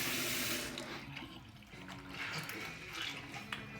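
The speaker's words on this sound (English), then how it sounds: "I'm just wetting a cloth because that's what I use to wipe it down" Tap water runs steadily into a sink to wet a cloth in a bathroom during a shave, a fairly quiet, continuous splashing flow that wavers slightly, with no talking.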